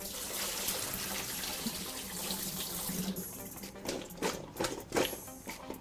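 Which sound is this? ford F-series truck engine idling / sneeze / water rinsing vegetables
water rinsing vegetables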